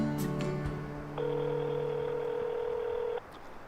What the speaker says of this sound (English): I'm going to see if the phone works, and I'll give her a call.